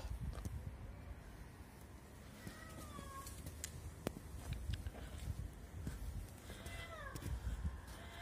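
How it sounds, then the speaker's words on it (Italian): A cat meows several times near an abandoned motorcycle outdoors, the short rising mews spaced apart over a steady background hum and occasional rustling. "C'è pure il gatto."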